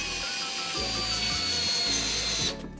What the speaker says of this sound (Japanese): 久々にこのシャオミのデンドラを使ってネジ締めていきたいなと思います